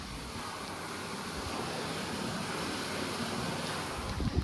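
Water rumbling and gurgling through an air valve on a farm irrigation pipe fed by a motor pump. It makes a steady, dense, roaring wash close to the valve, with no talk.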